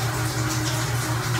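Shower water runs in a steady, even hiss that continues throughout with no break and no voices.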